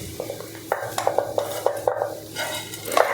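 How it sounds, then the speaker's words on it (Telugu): A spoon stirs tempering into cooked rice in a pan, with a series of sharp scraping clinks against the metal over a faint sizzle, close and rhythmic. "ఇలా రెడీ చేసి పెట్టుకున్న తాలింపు కూడా వేసేసుకుందాం"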